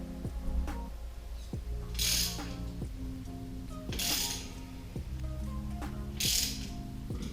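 A ratchet loosens 13mm bolts on a Tremec Magnum XL transmission during disassembly, making a steady run of close metallic clicks with ringing tones, punctuated by three louder scraping bursts. No speech.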